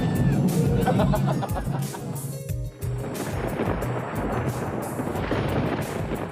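Thunder rumbles through a storm over a busy Australian beach, a loud, broad roar with rain and surf noise filling the whole stretch and a brief dip partway through.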